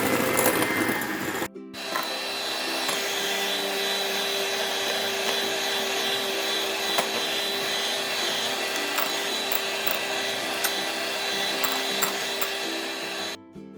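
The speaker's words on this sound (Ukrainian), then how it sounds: "Тепер додаємо по одній столовій ложці цукор та збиваємо до повного розчинення і так весь цукор." An electric mixer whisks egg whites with sugar for meringue, its motor humming at a steady, continuous pitch close by. The hum stops briefly near the start and cuts out at the very end.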